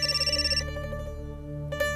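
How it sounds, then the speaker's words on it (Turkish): A telephone ringtone sounding indoors in a TV drama, a rapid pulsing electronic trill repeating at first, then a sustained tonal melody, fairly loud and close with no talk. "Seslenmek dururken neden telefonla arıyor ki?"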